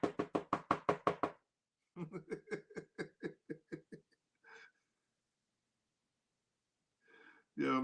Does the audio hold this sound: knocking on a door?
yes